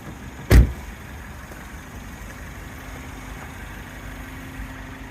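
A Peugeot RCZ THP200 with a 1.6 turbo engine idles quietly and evenly after a single sharp door thud near the start, the low steady hum continuing alone.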